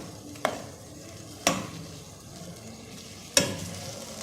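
Chicken being fried and stirred in a pot for pulao, with a low steady sizzle broken by three sharp spoon knocks against the pan at uneven intervals.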